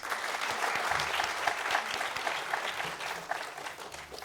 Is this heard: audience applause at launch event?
yes